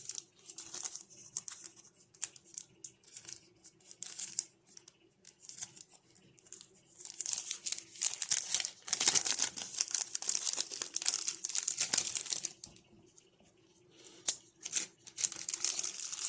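Plastic packaging and sticker wrappers for an AYANEO 2021 Pro handheld crinkle and rustle close up as items are packed back into the box, in irregular bursts that swell louder midway.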